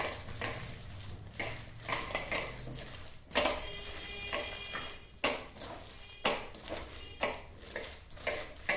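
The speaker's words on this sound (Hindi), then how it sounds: "इसको अच्छी तरह से मिलाएंगे पूरा अच्छी तरह से ताकि बेसन कहीं सूखा न रह जाए" A spoon or hand mixing potato, cabbage and gram flour batter for tikki in a metal bowl; close, irregular clinks and scrapes recur every second or so, with soft squelching between them.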